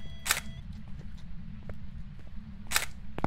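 A camera shutter fires twice for quick photos, two crisp, sharp clicks about two and a half seconds apart over a steady low background hum.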